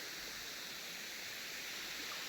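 Steady broadband roar of water spraying and pouring from a dam spillway near a 60-foot bridge, a constant rushing hiss with no breaks, fairly close and filling the scene alone.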